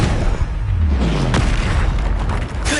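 Confringo blasting spell going off in the video game Hogwarts Legacy, a loud booming explosion with a deep rumbling low end, a sharp burst near the middle and sustained crackling debris throughout.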